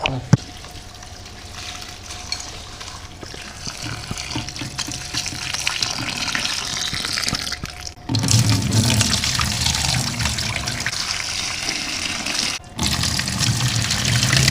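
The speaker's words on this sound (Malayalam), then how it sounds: "നമ്മൾ അരിഞ്ഞ് കൂണരിഞ്ഞ് ഇതാ കഴുകാം കഴുകാം" Chopped fresh mushrooms being rinsed under running tap water, a continuous close splashing flow with a brief pause, no talking.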